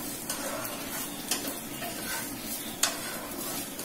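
Masala sautéing in a pan for a simple veg biryani, a steady low sizzle with occasional soft stirring scrapes and a few light clinks against the pan, close and fairly quiet with no talking.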